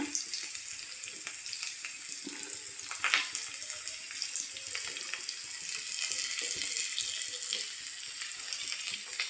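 Chhana and chillies frying in a pan, a soft, continuous hiss and crackle that holds steady for several seconds, faint and close, with occasional light scraping and no voices.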